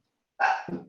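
A single short dog bark, close and fairly loud, then quiet.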